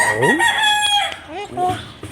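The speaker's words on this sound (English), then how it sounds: "Hey, pretty bird. Pretty bird. Pretty. Pretty. What are you doing in there?" A pet bird calls up close with loud, sliding, crowing and whistling notes in short phrases and rapid rising chirps. No voices are heard.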